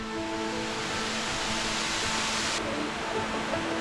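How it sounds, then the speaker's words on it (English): A waterfall in Caripe, Venezuela, roars as a loud, continuous broadband rush of falling water with no pauses, filling the whole scene evenly. "That's our waterfall."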